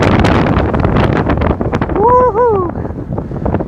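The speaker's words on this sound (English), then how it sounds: "The wind's trying to push me down." Strong wind buffets the microphone in loud, rough gusts out on an open frozen lake by ice fishing huts, with a whooping voice cutting through midway.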